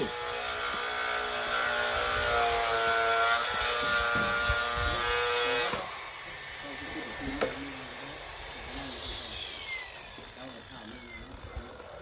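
Wood is sawn to cut an opening during house building, with close, rhythmic rasping strokes for several seconds before it stops and people talk over quieter work noise.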